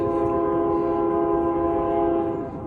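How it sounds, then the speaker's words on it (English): A train horn sounds continuously near a meadow at sunset, loud and steady with layered tones over the low rumble of passing rail cars, fading slightly at the very end. "There's a train in the background."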